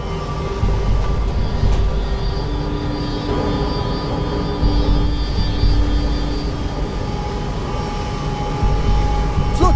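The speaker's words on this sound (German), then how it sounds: "Flugzeug in Sichtweite!" A steady, loud engine drone with a sustained hum fills the scene, like a propeller plane passing close by in the video game Battlefield 1, with no speech.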